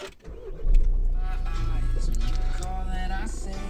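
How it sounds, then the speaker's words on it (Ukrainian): A Volkswagen Sharan engine cranks and catches, then settles into a steady, loud idle with a deep rumble close by, while a voice talks over it partway through. "оскільки автомобіль заводиться. От Зараз покажу."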